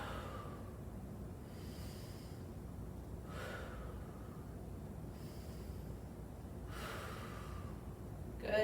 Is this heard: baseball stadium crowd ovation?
no